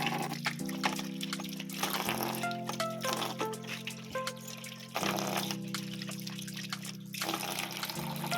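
Water pouring in a continuous splashing stream with a steady low tone underneath, loud and close, with no talk.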